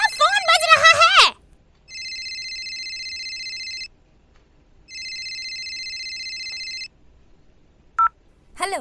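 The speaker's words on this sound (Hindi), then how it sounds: "तुम्हारा फोन बज रहा है।" Mobile phone ringing indoors with an electronic ringtone, two long bursts of steady tones separated by a pause, after a short stretch of talk and before a brief beep.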